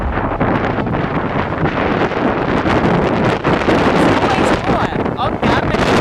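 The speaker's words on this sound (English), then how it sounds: "Woo, even more wind." Strong wind buffets the microphone outdoors in a spring garden among plants, a loud, continuous roaring rush with gusts swelling and easing throughout, while a voice speaks over it.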